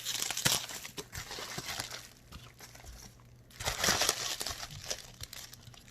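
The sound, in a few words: cutting open plastic packaging of an unboxing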